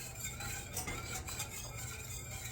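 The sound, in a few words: stirring boiling chocolate sauce in a pot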